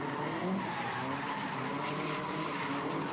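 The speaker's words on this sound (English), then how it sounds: "Love the sound of those flat 4 engines." A Subaru flat-four gymkhana car at a competition event, its engine growling at high revs under a continuous loud tyre squeal and skid, steady and dense throughout with no voices.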